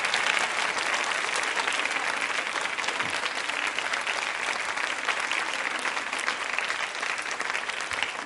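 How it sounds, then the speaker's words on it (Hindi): Sustained applause from a hall full of women at a quiz show, steady dense clapping that stays even and loud from start to finish. "तालियां बजाइए इस संकल्प के लिए आप।"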